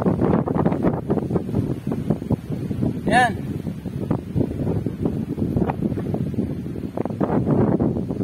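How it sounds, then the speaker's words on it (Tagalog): Strong wind buffeting the microphone at a seaside lighthouse, a continuous loud roar throughout, with a person talking over it. "Lakas ang hangin dito."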